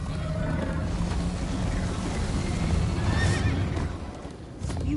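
A horse in the Minecraft Story Mode video game gallops with steady clip-clop hoofbeats and loud neighs, the sound dense and continuous and close up, with no talking over it.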